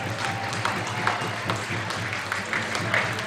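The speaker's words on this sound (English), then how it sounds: "round of applause for this man." Applause for a football player at a women's premier league awards ceremony: a steady wash of clapping from a moderate crowd, sustained and fairly even throughout, heard from a middle distance.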